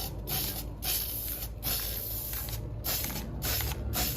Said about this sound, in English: I've never spray painted styrofoam before, so hopefully this works.